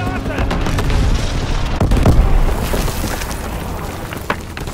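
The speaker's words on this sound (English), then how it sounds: "Firing primary weapons." Video game weapons fire in a WW2 setting, with dense rumbling bursts and a few sharper shots over several seconds against continuous battle noise, peaking near the middle and then easing off.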